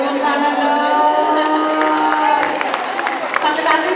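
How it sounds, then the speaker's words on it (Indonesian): A crowd at a school meet-and-greet with Junior MasterChef Indonesia contestants claps and cheers, a dense mix of clapping and raised voices lasting a few seconds. "Tepuk tangan"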